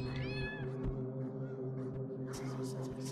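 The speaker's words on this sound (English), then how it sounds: "I heard a cat too, actually." A cat in a video game lets out a clear rising meow near the start, heard over a steady low hum and faint background noise, with a soft hiss-like burst toward the end.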